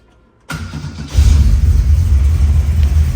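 A restored Holden LC Torana GTR XU-1 engine turning over and firing, a short crank then catching into a loud, deep, steady idle rumble close by without throttle.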